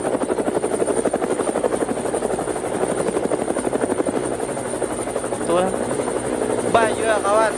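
A helicopter's rotor beats in a steady, fast, loud chop from start to finish, heard close, with people talking over the noise.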